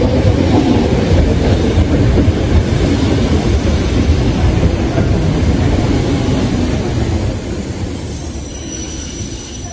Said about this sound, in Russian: Ну вот и приехала моя электричка